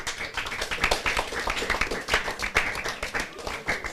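A small group claps in a quick, uneven patter at moderate volume, lasting a few seconds.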